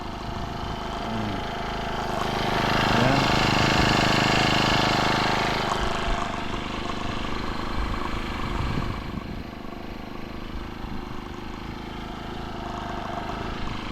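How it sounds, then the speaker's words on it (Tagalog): A grass cutter engine runs at close range on a farm, a steady buzzing drone that swells in the middle then settles back, with a brief word spoken near the start. "ito na ho yung ating grass cutter"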